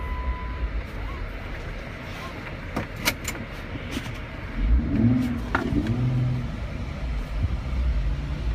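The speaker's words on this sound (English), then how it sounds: "The initial hit of the throttle, you can hear the air being sucked in through the intake, which sounds great." A modified, lifted Jeep Rubicon engine with a low rumbling idle that swells when the throttle is hit, adding an intake whoosh, with a few faint clicks and rattles inside the cabin.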